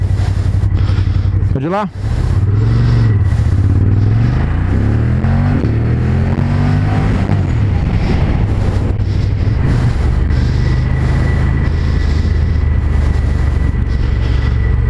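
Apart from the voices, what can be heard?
Ducati Monster motorcycle riding on circuit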